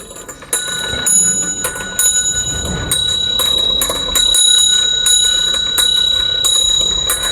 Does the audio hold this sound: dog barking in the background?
no